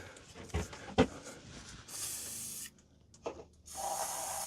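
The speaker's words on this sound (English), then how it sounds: "This is penetrating oil spray." Penetrating oil sprays in two hissing bursts onto rusted bolts of a rear subframe on a Mini Cooper S Convertible, close by, with a few knocks and handling sounds before them.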